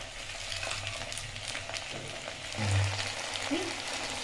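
Onions and spice paste frying in a pan for a Ritha fish curry, a steady close sizzle and crackle with a brief louder burst partway through, no talking.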